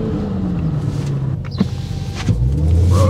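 Inside a 2023 Dodge Hellcat, the power window whirs up with a thin motor whine over the car's low engine rumble. No one speaks.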